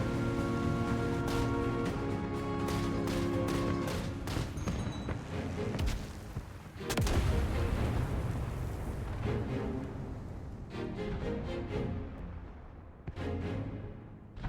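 In the video game IL-2 Korea, a bomb explodes as a deep, loud boom midway through, while rapid gunfire rattles before and after it over a steady engine drone and musical tones.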